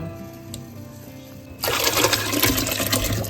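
Mushrooms and their water pour into vegetable broth for a Christmas Eve mushroom soup: quiet at first, then a loud, steady splashing stream that begins midway and continues to the end.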